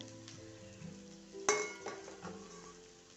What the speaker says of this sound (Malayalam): ഇനി അതിലേക്ക് കഴുകി മാറ്റി വെച്ച സോയാബീൻ ഇട്ട് കൊടുക്കുക. അതൊന്ന് ഫ്രൈ ചെയ്തെടുക്കണേ.